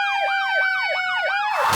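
Ambulance siren sweeping up and down in fast repeated wails, loud and close, with a burst of noise at the end.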